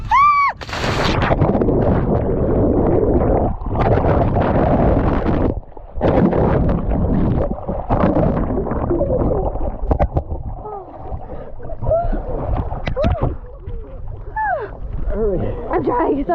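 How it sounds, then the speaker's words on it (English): A loud splash as someone plunges into a lake in Glacier National Park in spring, followed by sloshing, gurgling and churning water with scattered bubbly sounds. "I'm gonna jump in the water"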